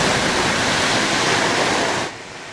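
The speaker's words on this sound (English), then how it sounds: "What was supposed to be a simple test turned into a sky-high water show, sending thousands of litres into the air" Water gushes from a broken fire plug on a road, thrown high into the air during a failed test: a loud, steady, dense roar of spray that drops off abruptly near the end, with no talk.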